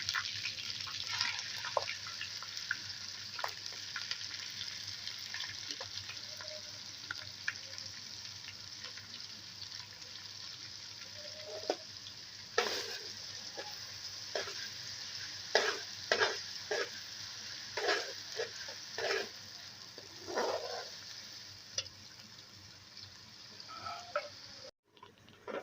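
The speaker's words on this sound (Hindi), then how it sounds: "प्याज अदरक लहसुन हमारा फ्राई हो चुका है" Onion, ginger and garlic frying in a pan make a steady, close sizzle, broken up by repeated scraping and stirring strokes throughout, with no talking over it.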